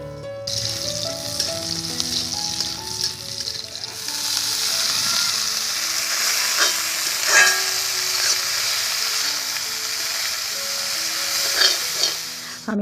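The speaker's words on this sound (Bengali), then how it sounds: "ওই মূলো শাক এখন রসুন ফোড়ন দিয়ে ভেজে নেবো" Chopped radish greens frying with a garlic tempering, a steady close sizzle and hiss that thickens partway through, with occasional stirring clicks and no talking.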